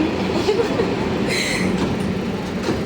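A metro train bound for New Garia runs with a continuous rumble and rolling clatter, a brief high squeal rising midway, close and steady.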